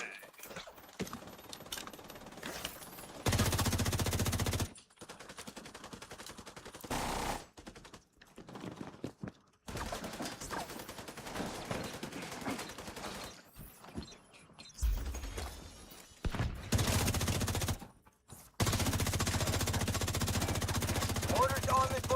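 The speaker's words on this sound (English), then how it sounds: "Ooh, big turret." Heavy turret machine gun fire in The Division 2 at the DARPA Labs, long rapid bursts of dense close gunfire broken by brief pauses and quieter stretches of mechanical clatter, with occasional voices.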